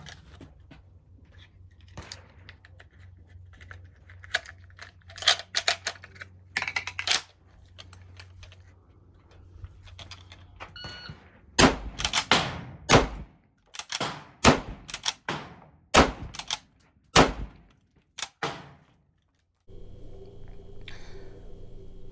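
K31 straight-pull rifle fired rapidly in Mad Minute style, sharp loud cracks in quick succession mixed with the clack of the bolt being cycled between shots, outdoors.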